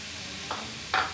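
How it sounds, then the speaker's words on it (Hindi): Raw chicken and chopped onion go into a hot cooking pot over a steady low sizzle, with two quick bursts of hissing as each batch lands. "मैं चिकन डालूँगी, फिर ये कटी हुई प्याज डालूँगी"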